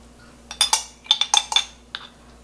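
A metal spoon clinks sharply against a bowl in a quick irregular series of bright taps while minced garlic is added to kimchi seasoning. Close and clear, with no talk over it.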